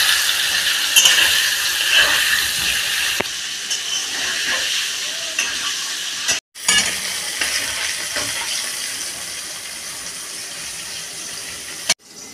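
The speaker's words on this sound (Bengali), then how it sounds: "আলুটা আমি ভেজে নেব।" Potatoes seasoned with salt and turmeric fry in a pan for a chicken pulao, giving a steady, loud hiss and sizzle that runs on with brief cuts and no talk.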